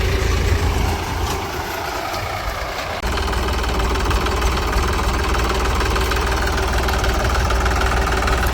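A tractor engine runs at a steady idle with a close, loud, continuous mechanical rumble and knock that eases slightly for a moment before settling back to full strength. No one speaks.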